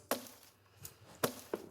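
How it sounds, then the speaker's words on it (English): A plain acoustic-style snare drum sample hits four times on its own, short dry cracks with sharp attacks and quick decay, clear and close. "more kind of normal snare that sounds like this by itself."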